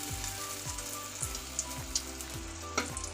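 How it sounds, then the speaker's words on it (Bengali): Pointed gourd fries in a pan with a soft, steady sizzle and faint crackles, close but quiet, with a low repeating hum beneath and no talking. "ভাজা হয়ে গেছে পটল"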